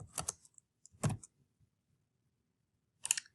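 A few sparse, quiet clicks of keys on a computer keyboard, in three short bursts separated by pauses, in a silent room.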